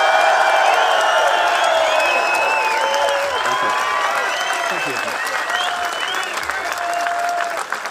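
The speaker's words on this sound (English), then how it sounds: "we're going to give an enormous round of applause" Large festival audience for David Icke erupts in sustained applause with cheers and whoops layered over the dense clapping, holding loud before thinning slightly at the end.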